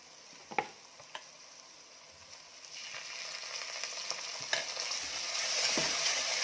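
Ground roasted coconut paste frying with ginger-garlic paste for Kolhapuri mutton, stirred in the pan: a steady sizzle that grows louder over time, with a few spoon knocks early on and no talk.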